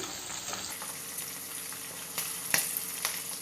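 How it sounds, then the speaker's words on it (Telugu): Chicken pakoda frying in hot oil with the stove off, giving a steady soft crackling sizzle with a few sharper pops and light stirring, fairly quiet with no voices. "స్టవ్ ఆఫ్ చేసుకొని మీరు ఫ్రై చేసుకోండి, ఎట్లాగా వేడిగా ఉంటుంది కాబట్టి ఆయిల్."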